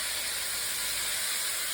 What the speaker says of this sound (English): They're raw, so they'll need to go in for a cook right now.